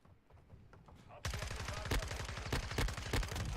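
Suppressed automatic gunfire from a weapon with an integrated suppressor in Modern Warfare 2 beta gameplay: after a quiet start, a rapid rhythmic burst of muffled shots runs steadily to the end, close and prominent, with game sounds behind.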